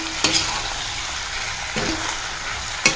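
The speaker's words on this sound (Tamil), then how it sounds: "இதை நம்ம அப்படியே வதங்கட்டும்" Raw mango thokku sautéing in a pan gives a steady, close sizzle and bubble, broken by three brief scraping stirs spread through the sound.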